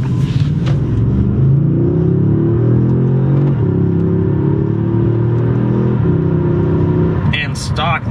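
A tuned Audi S6 engine pulls hard under acceleration, a loud, sustained throaty drone with shifting harmonics and brief dips between gears, heard from inside the car, with a short higher squeal near the end.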